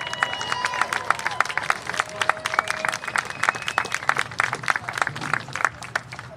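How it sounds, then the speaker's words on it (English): Crowd applause for the homecoming court at a St. Andrews University vs. Reinhardt University football game, with dense, sharp claps and some cheering echoing across the stands for several seconds. "Let's give the 2024 homecoming court a round of applause."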